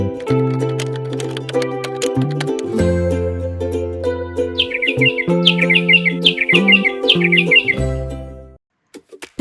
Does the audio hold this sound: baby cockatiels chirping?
yes